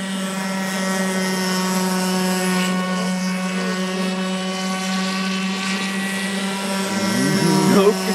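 A radio-controlled airboat's small engine and propeller scream at full throttle with no throttle control, a steady loud harmonic whine that swells and wavers near the end.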